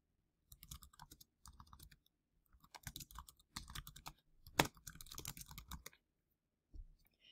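Someone types a file name on a computer keyboard in short bursts of crisp key clicks, close and fairly quiet, with pauses between the runs of keystrokes.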